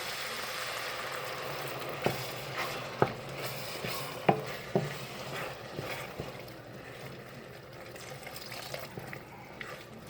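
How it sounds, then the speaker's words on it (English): A cup and a half of beef broth goes into a pot of one-pot chili, a faint liquid slosh and stir with a few light clinks of a utensil against the pot, quiet and continuous. "Now I'm going to add beef broth."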